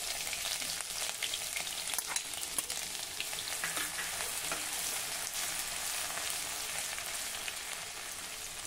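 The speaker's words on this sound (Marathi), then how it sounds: "तेल गरम झालं की त्यामध्ये मोहरी घालूया, जिरे, जिरा मोहरी नीट तळतळली की यामध्ये 2 टेबलस्पून ठेचलेलं आलं लसूण घालूया" Mustard seeds, cumin and crushed ginger-garlic fry in hot oil for a Vidarbha-style spiny brinjal curry, giving a steady, close, dense crackling sizzle with faint stirring scrapes throughout and no voices.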